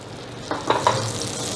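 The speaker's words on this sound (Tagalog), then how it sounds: "Sa mainit na kaldero, ilagay lang natin yung ating butter." Butter hits a hot cooking pot over a medium flame, giving a faint, steady sizzle with a few brief stirring or spattering bursts, close by and without voices.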